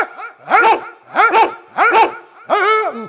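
A performer in a comic Marathi bharud folk show imitates a dog barking with his voice, giving four loud, evenly spaced barks.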